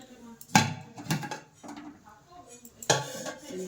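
A cooking pot being opened and handled in a home kitchen, with two or three loud metallic clanks and scrapes of lid and vessel, separated by quieter clatter and a voice talking nearby.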